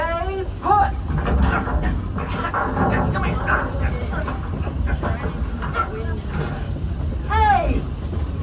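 A Walt Disney World Railroad train runs with a steady rumble, hiss and rolling clatter. Voices speak intermittently over it.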